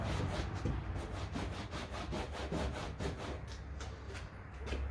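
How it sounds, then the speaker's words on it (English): A towel soaked in wax and grease remover is rubbed back and forth over the surface of a 2021 Ram Promaster van, making a steady, rhythmic scrubbing sound of repeated close strokes with no talking. "the old school way is some wax and grease remover. I'm just going to wipe it down, sort of clean off any crud that's on there."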